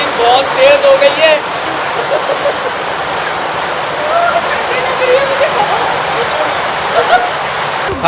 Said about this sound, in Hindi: अनएक्सपेक्टेडली बारिश बहुत तेज हो गई है।